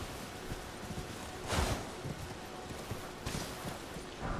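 Horse hooves galloping across open ground in the video game Elden Ring, a steady clip-clop rhythm with a couple of louder thuds, heard alone at moderate level.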